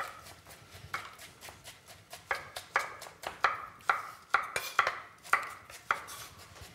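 A knife chopping vegetables on a board while preparing spaghetti with minced meat, aubergine and courgette, with irregular sharp close taps speeding into a quicker rhythm and no talk.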